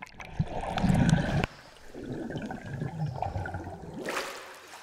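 A GoPro camera is lowered into water, with a loud rushing splash and a sudden cutoff, then muffled underwater gurgling and bubbling, ending in a brighter burst of churning water.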